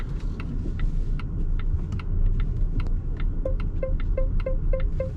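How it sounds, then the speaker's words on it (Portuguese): Volvo XC60 Ultimate plug-in hybrid SUV with a 2.0 turbo engine, running in hybrid mode on a test track: steady low road and engine rumble throughout, with a series of short electronic chime beeps near the end. "vamos testar como que é esse carro aqui na pista do Aras Tuiuti"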